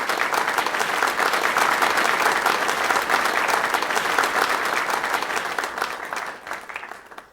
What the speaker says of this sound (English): Round of applause for him, ladies and gentlemen.